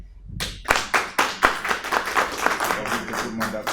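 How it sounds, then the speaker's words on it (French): Applause from an audience at the first general assembly of PCC France: a scattered round of hand clapping that builds and continues steadily, with voices talking in the room beneath it. "Si on est d'accord, on va l'applaudir."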